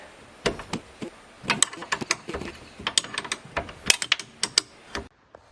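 A wrench works on bolts on a 2017 Polaris Ranger XP 900, giving close, irregular metallic ratcheting clicks and taps in quick uneven bursts for several seconds, with no talking.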